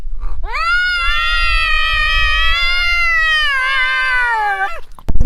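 A cat lets out one long, loud, drawn-out meow lasting about four seconds, close by and alone, ending in a brief bump of noise.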